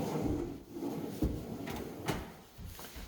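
A kitchen island drawer in a new home slides open and shut, giving a few soft rolling slides and muted clunks at low volume in a quiet room.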